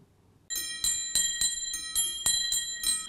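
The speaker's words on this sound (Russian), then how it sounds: "Звук колоколов" Church bells ring out in a bright, metallic series of about eight strikes after a brief quiet start, each clang sharp and overlapping the ringing decay of the last, fairly clear and close.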